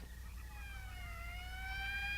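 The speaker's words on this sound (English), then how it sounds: "That's the fifth siren in the last hour." An approaching morgue wagon's siren wails steadily as one continuous rising and falling tone, growing slightly louder over a low background rumble, with no voices.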